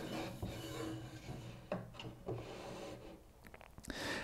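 A wooden foot rung slides into the wooden sides of an indoor climbing frame, giving close, scraping rubs of wood on wood with a few small knocks and creaks.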